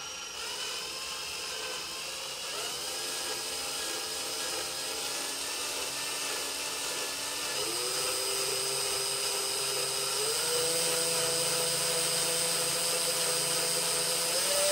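Power drill boring out a broken screw on an elliptical trainer, a steady high whine with shifting pitch as the bit bites into metal, continuous and close, no talking.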